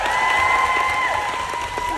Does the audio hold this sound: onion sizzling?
no